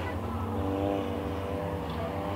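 Race cars roaring around a dirt track during a feature race, a dense, continuous engine drone from several cars running together, heard from a distance with no voices.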